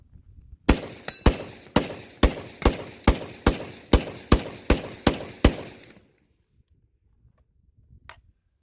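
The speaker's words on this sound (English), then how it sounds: "All right, 30 rounds with an FAL 30 round mag." An FN FAL rifle fed from a 30-round metric magazine fires a rapid string of about a dozen sharp, loud reports in steady rhythm, then stops, leaving near silence with a faint click at the end.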